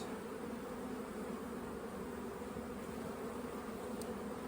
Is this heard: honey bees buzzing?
yes